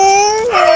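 A dog gives a single drawn-out tonal whine or howl that bends in pitch near the end. The sound is loud and close, with no talking.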